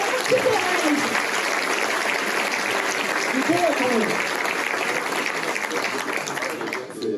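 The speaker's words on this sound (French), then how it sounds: "Applaudissements pour Sylvain Perret." Sustained audience applause for Sylvain Perret at a New Year's greetings ceremony in Templeuve-en-Pévèle, a steady wash of clapping with voices calling out over it, easing slightly toward the end.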